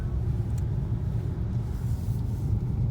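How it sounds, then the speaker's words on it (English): A new car being driven home gives a steady low engine and road rumble from inside the cabin, constant and fairly loud, with no voices. "Taking my new car home."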